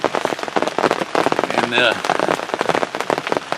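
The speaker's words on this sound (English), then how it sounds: "So it's been raining on me all the way back down here from the last hour drive." Steady rain pours onto a surface outdoors near a hunting blind site behind a cabin, a loud dense patter throughout, with someone briefly speaking over it.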